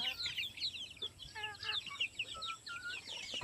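Young chickens about three and a half to four months old, kept in a netted enclosure, cluck and chirp faintly in short scattered calls that repeat through the whole stretch.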